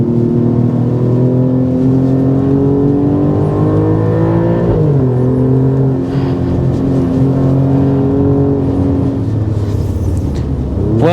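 A 2.9-liter twin-turbo Ferrari-derived V6 in an Alfa Romeo Stelvio Quadrifoglio revs hard and close, its pitch climbing steadily, dropping sharply at a shift around the middle, then building again, loud and continuous with no talk.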